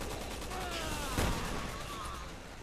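Gunfire from the video game Resident Evil 6 pops under a dense, noisy game soundtrack, with one sharper shot standing out midway; faint and busy rather than isolated.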